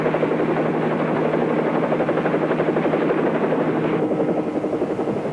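A helicopter hovers close by near a hillside ridge, its steady rotor throb and engine drone loud and continuous throughout, with a slight shift in tone near the end.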